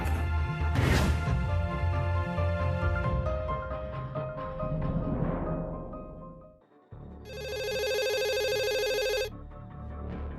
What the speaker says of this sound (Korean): 2년 전 어느 날 119에 걸려온 전화 한 통.